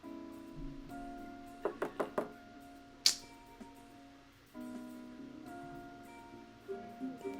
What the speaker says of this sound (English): That was a secret knock